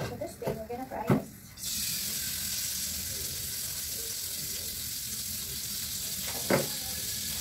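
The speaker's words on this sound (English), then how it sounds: "So now we're gonna fry the sausage." Sausage pieces hit a hot pan and set off a sudden, steady loud sizzle that carries on to the end. Voices and a few clatters come before it, and there is one brief knock near the end.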